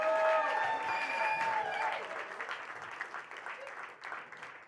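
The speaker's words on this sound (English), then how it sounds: "Give them a big round of applause." An audience at a stand-up comedy show breaks into applause, loud at first and then thinning into scattered clapping, with some cheers and a voice over the start.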